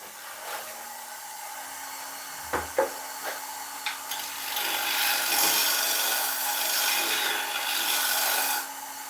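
Ash log spun on a wood lathe at 900 RPM, a steady rasping, scraping cut with a few sharp knocks early on, then a louder sustained shaving hiss that holds for several seconds before stopping.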